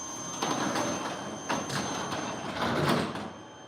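A layer door opening and closing repeatedly in a garage, giving several broadband thumps and slides at an even rhythm against steady background hum, with no talk.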